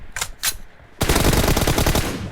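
Gunfire in an esports video game: two quick separate shots, then a sustained loud burst of rapid automatic fire rattling on for over a second, close and dominant with no talking.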